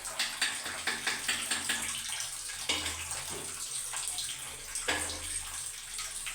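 Water running from a tap, sounding as a steady, continuous broadband wash that stays close and fairly loud throughout, with small splashes and surges in the flow and no talk over it.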